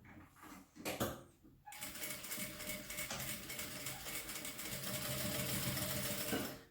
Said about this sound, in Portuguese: Rebate a costura.